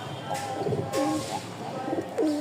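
Rajshahi Giribaz pigeons coo in repeated soft, close, throaty phrases, with faint background voices.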